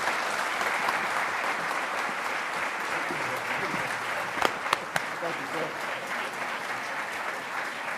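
An audience at a Pentagon disability awards ceremony applauds a keynote speaker with steady, sustained clapping that fills the hall, and a few louder claps stand out near the end.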